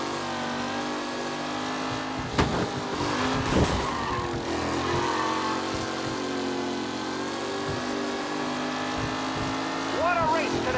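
Race cars in the video game Mafia: Definitive Edition roar past at speed, a sustained engine drone with passing surges and a tire skid near the end, as an announcer talks over the action.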